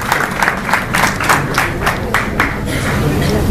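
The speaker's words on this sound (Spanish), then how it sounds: "Un fuerte aplauso para mi compañero." A burst of hand clapping from a small crowd, quick irregular claps that taper off after a few seconds.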